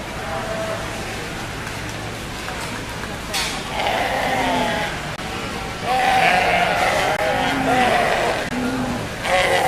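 Sheep bleat several times in a 4-H/FFA breeding show ring, moderately close, while an announcer talks steadily over them.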